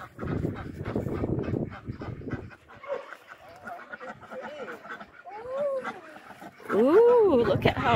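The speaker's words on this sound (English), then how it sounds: "there's the duckies" Ducks and geese on a farm honk and quack, with rising-falling calls growing louder near the end. People talk over the birds, and there is some scuffling.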